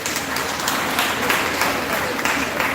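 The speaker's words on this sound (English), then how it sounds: "give yourself a round of applause." Audience at a school PTA meeting applauding in a hall, a steady dense wash of many hands clapping that stays loud throughout without talk over it.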